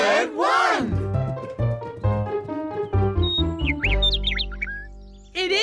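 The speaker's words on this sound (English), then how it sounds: "It is Little Bird 1. He came back. And he's singing." A cartoon bird, Little Bird 1, sings in a children's animated show. High twittering chirps and trills come over a bouncy musical backing, with a short vocal exclamation at the start and another at the end.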